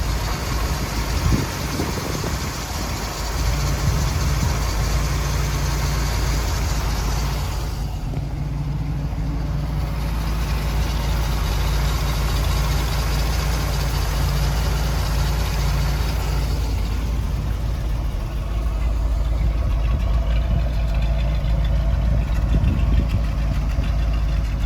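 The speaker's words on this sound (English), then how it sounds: "we're gonna go ahead and get the engine started" A 1964 Chevrolet Corvette engine rumbles at a steady idle, a loud continuous low drone with a slight lumpy texture that holds evenly throughout, with no talking.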